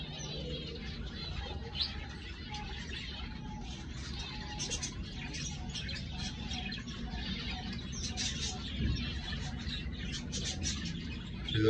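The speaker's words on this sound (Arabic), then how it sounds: "هاي الافراح الحمام الملكي." Royal pigeons in an aviary, soft coos and chirps over a low steady background rumble, with brief fluttering, fairly faint and continuous.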